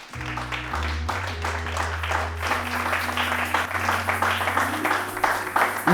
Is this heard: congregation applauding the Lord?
yes